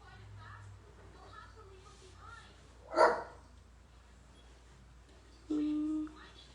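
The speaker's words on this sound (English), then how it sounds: "they need to stop barking" Pet dogs bark indoors: one sharp bark rings out alone near the middle, and a longer whine or howl-like bark follows later, heard over a quiet room with a talking voice between.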